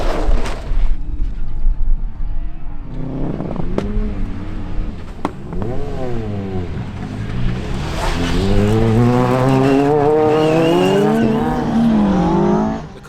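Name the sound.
Ford Fiesta R5 rally car racing, tires squealing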